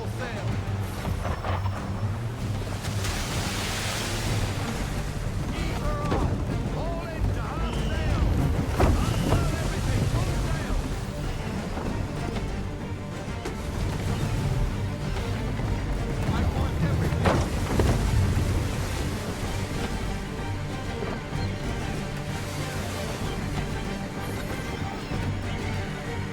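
Sailing ship under full sail at sea in Assassin's Creed 3, with steady wind, waves and creaking hull filling a dense, constant roar throughout, and voices calling over it.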